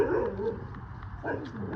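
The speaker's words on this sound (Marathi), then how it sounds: "कुत्रा भुकायला लागला" A dog barks a few times in short bursts, fairly close, with some whimpering yips mixed in.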